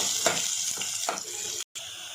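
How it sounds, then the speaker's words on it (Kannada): Onions frying with chana dal in a hot pan, a steady close sizzle with a few stirring scrapes, briefly cutting out near the end. "ಕಡಲೆಬೇಳೆ ಸ್ವಲ್ಪ ಕೆಂಪಗಾದ್ಮೇಲೆ 2 ಈರುಳ್ಳಿ ದೊಡ್ಡದು ಹಾಕ್ತಾಯಿದ್ದೀನಿ. ಇದು ಸ್ವಲ್ಪ ಕೆಂಪಗಾಗೋವರೆಗೂ ಫ್ರೈ ಮಾಡ್ಕೋಬೇಕು."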